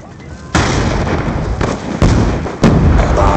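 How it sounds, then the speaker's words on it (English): Bombs go off in the video game Black Ops II, three heavy booming blasts at irregular intervals, loud and close, each followed by a sustained rumbling roar. "Bomb dropped."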